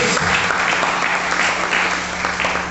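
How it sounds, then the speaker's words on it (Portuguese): Church congregation applauding during a worship service, a continuous dense round of clapping at steady volume throughout, with a low hum underneath. "Vamos aplaudir a Jesus?"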